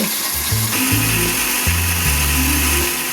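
An electric mixer grinder whirs through a spice paste of tomato, green chili, ginger, coriander and cumin powder, and turmeric, its motor humming in several short bursts with brief pauses between them.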